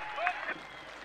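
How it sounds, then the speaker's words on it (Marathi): A crowd at a Kolhapur Premier League 2023 cricket mega final in Kasba Bawda applauds both teams, with a steady wash of clapping under a loud announcer's voice. "दोन्ही टीम साठी आपण एकदा जोरदार टाळ्या वाजूया, जोरदार टाळ्या"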